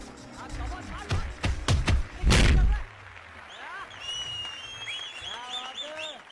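Boxing match audience in a movie fight scene, a burst of loud clapping and heavy thuds in the first seconds, then a quieter murmuring background with whistles and bird-like calls as a voice talks.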